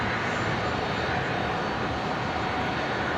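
Virgin 942, a jet airliner bound for Sydney, rolls full length down runway 01 right at Brisbane airport, a steady loud roar of engine noise that holds unbroken and even throughout.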